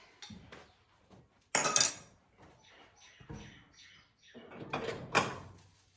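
Metallic clicks and clanks of pot handles being snapped into place, then the pot lifted off a magnetic trivet with a scraping clatter, close by, with a voice talking faintly in between.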